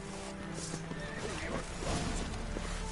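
A horse neighs and whinnies loudly in the Witcher 3: Blood and Wine game amid a combat scene, with hooves clip-clopping and battle noise around it.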